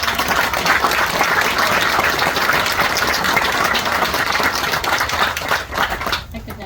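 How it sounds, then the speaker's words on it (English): Audience gives a round of applause for veteran services staff at a community gathering, a broad, continuous wash of many hands clapping at close range, then fading out at the end. "we could just give them a round of applause"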